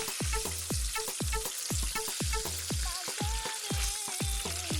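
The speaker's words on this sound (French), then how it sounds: "Donc je les fais frire à peu près 8 à 10 minutes." Breadfruit pieces deep frying in a countertop fryer, a loud continuous bubbling sizzle with rapid repeated crackles and pops throughout, close and unbroken.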